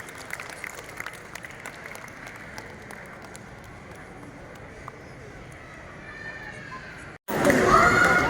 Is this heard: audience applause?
yes